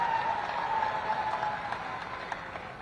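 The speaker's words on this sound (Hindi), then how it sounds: "जोरदार तालियों से।" Applause from a crowd at a political rally in Shamli, India, moderately distant and fading slightly over a few seconds, with a faint tone and murmur underneath.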